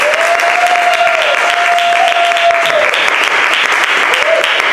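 Dense applause from an audience at a poetry open mic fills the room, steady and close, while a voice speaks over the clapping.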